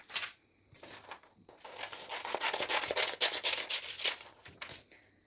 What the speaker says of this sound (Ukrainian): Беремо червоний колір, наприклад, і починаємо нарізати тоненькі смужечки